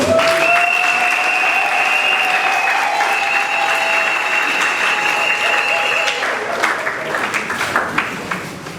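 Sustained applause from a crowd at a pharmacists' oath-taking ceremony, loud and steady at first, then thinning into scattered individual claps toward the end.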